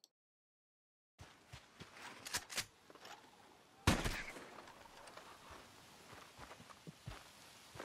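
A single sharp rifle shot rings out in Red Dead Redemption 2 during an iguana hunt, loud and close with a short decaying tail, after quiet rustling steps.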